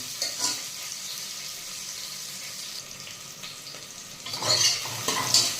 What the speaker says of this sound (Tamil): நல்லா பொன்னிறமாக வதங்குற வரைக்கும் நல்லா கிளறி விடுங்க